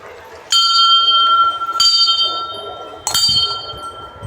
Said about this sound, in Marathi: घंटा वाजवली आहे या ठिकाणी.